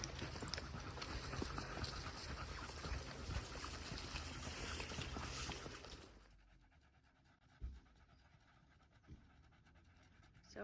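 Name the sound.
dogs panting after a walk in hot weather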